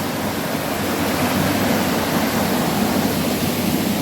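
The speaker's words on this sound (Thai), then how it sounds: "ก็จะเป็นน้ำไหลนะท่านผู้ชม" Waterfall water rushes continuously in a dense, even roar, loud and close, with no other sounds breaking through.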